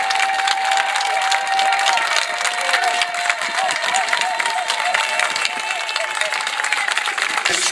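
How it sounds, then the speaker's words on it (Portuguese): An audience claps steadily and cheers throughout, a dense, sustained wash of applause from a crowd gathered for a screening, with a faint tonal line running underneath. "Para ela, o vosso aplauso!"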